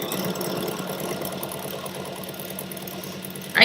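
A sewing machine stitches fabric at a fast, steady clip, giving a continuous mechanical whir with a fine rapid rhythm, close and fairly loud, ending in a brief louder clatter.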